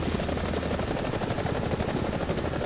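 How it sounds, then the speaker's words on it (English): A helicopter in War Thunder thrums continuously up close, its rotor chop pulsing evenly through the short moment with no one speaking. "Oh, there is another helicopter"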